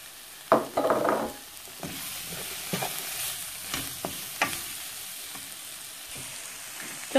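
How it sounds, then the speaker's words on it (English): Chopped sausages fry and sizzle in a pan, with a crackling burst as they go in, then steady hissing and periodic scraping stir strokes, close and clear with no talking. "I'll be adding in my chopped sausages."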